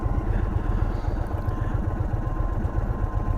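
An Indian Sport Chief motorcycle idles in neutral with a steady, low, rumbling throb, loud and close, with no talk over it.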